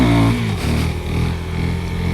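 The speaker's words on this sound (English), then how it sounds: "I'll just do a normal wheelie right now." A KTM Duke 390 motorcycle engine revs hard as the bike lifts into a wheelie, a loud close buzzing drone that dips briefly and then holds steady.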